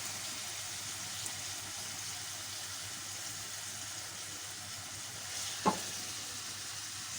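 Tomatoes with salt, cumin, chili and turmeric fry in a pan for an egg and potato curry, a steady, close sizzle with a single clink of a utensil near the end.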